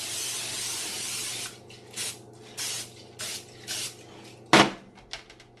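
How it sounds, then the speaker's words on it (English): Cooking spray hisses onto a foil-lined 9x13 pan, one long spray followed by several short bursts and a sharp clack, close and clear with no talking. "get it lined with some foil, and give it a good spray with some Pam"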